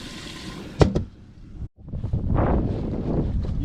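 Strong wind gusting over a lake on a fishing boat, roaring and buffeting the microphone close up, with a sharp knock, a brief dropout, then sustained heavy rushing.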